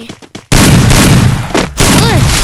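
Loud, dense blasts of shotgun fire in the battle royale game Free Fire, a near, sustained barrage with a brief drop before another burst.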